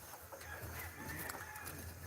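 Chickens cluck softly at a distance over a low steady background hum.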